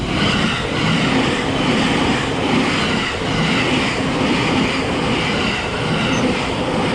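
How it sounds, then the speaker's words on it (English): A train passes near a Tokyo-area rail line on a spring morning, a loud, steady rumble of wheels on rails with faint rhythmic clatter holding for the whole stretch, no voices over it. "Do you want to see the train?"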